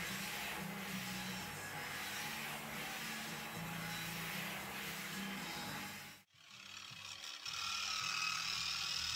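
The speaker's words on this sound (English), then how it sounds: "I'm using silica carbide grit and a sheet of float glass to grind the lead crystal piece on top of." Lead crystal piece ground by hand on a sheet of float glass with silicon carbide grit, a steady gritty scraping and rasping in repeated strokes, close and continuous, with a brief pause before resuming.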